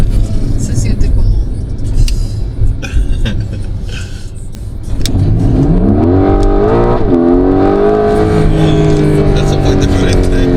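A Porsche 911 GTS T-Hybrid accelerates from inside the cabin, its engine and exhaust note rising steadily in pitch through the gear with a loud, sustained drone, and people talk over it.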